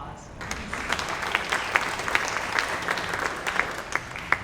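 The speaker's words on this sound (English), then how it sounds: "Give her a round of applause." A crowd at the Cincinnati Jazz Hall of Fame induction ceremony gives a round of applause for Ruth Cleet; moderate, fairly distant clapping with a few sharper individual claps standing out.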